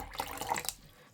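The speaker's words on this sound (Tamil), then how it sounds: "அதுக்கு தேவையான அளவு தண்ணி விட போகிறேன்." Water is poured over sprouted moong dal in a kitchen, giving a short, fairly quiet splashing trickle that fades out after about a second.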